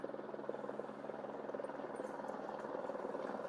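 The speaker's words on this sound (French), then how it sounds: "l'utilisation d'un hélicoptère pour les travaux" A helicopter flying rotations over castle restoration works at Haut-Koenigsbourg, a steady, fairly distant rotor throb and engine drone with no one talking.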